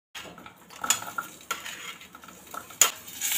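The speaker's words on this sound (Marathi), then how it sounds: "कढईमध्ये 1 चमचा तेल घालून तेल गरम झालं की यात कांदा परतून घ्यायचा आहे" Onion being sautéed in a little hot oil in a kadhai, with a metal spoon clinking and scraping against the pan in irregular bursts over a soft sizzle, close and fairly quiet.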